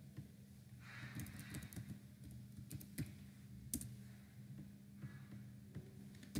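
Someone typing on a computer keyboard, faint scattered key clicks in uneven bursts over a low steady electrical hum.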